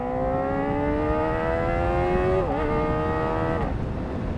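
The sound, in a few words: Kawasaki ZX-4RR motorcycle engine revving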